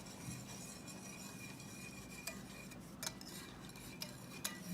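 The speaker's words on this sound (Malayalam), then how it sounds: "ഇനി നമുക്ക് മിക്സ് ചെയ്യാം." A spoon or whisk stirs a pudding batter of eggs, sugar, milk and vanilla essence in a bowl, giving quiet scraping with a few sharp clinks against the bowl.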